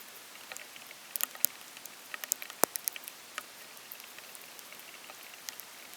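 Rain patters outdoors on a surface while gar fish are being cleaned, scattered drops and sharp taps ticking irregularly over a soft steady hiss.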